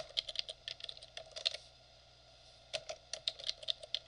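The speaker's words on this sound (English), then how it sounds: "And then I'm going to type in another subtitle." Fingers tap quickly on a computer keyboard while entering a subtitle into a Microsoft Word document, producing close, crisp keystroke clicks in two bursts split by a brief pause.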